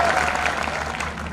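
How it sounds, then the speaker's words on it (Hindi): A stage audience breaks into loud, dense applause to welcome a poet, a thick continuous clatter of clapping hands up close, steady and bright for the whole short stretch without any speech. "तालियां जरा जोरदार रखनी चाहिए संपत भाई के लिए"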